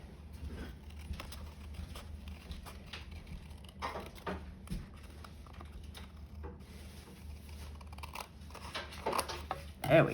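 Faint snips and crunches of small craft scissors trimming the sides of a cardstock envelope, scattered irregularly over quiet room tone, with a louder rustle near the end.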